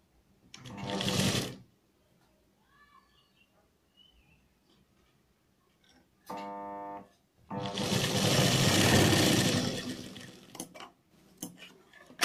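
A sewing machine stitches a newborn baby cap in two loud bursts, a short run early on and a longer, steadier run near the end, with quiet gaps and faint handling noises between.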